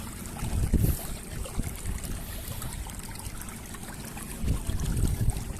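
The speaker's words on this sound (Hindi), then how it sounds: "पानी आ रहा है यहाँ पे, देखें आप।" Irrigation water pours and trickles steadily into a wheat field, a faint, broad gurgling wash with a few louder splashy swells and a low outdoor rumble beneath.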